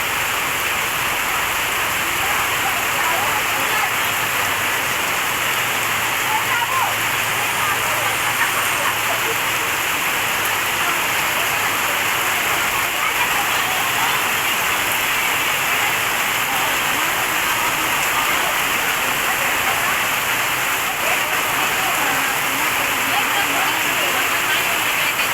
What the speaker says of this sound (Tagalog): ang ingay din ng ulan